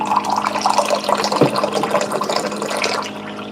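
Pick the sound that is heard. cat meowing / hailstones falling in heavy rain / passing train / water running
water running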